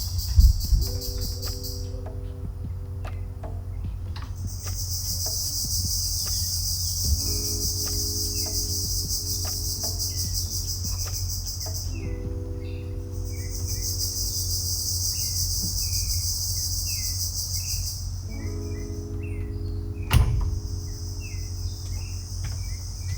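A nighttime chorus of insect mating calls, mostly crickets, trills steadily in dense waves that swell and fade, with occasional faint bird chirps. The setting is an outdoor evening at a villa retreat in Jamaica.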